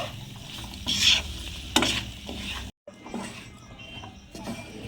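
Boiled chickpeas stir-fried with spices in a pan, with spatula scrapes and clinks over a soft sizzle, a brief gap in the middle, then quieter stirring.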